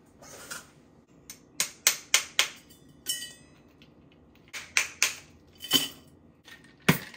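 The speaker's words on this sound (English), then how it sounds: "Add ice, give it a shake." Cocktail shaker of rum punch with ice, overproof dark and white rums, shaken hard in short bursts: a run of sharp, close clattering rattles in two clusters, loud against a quiet background with no talk.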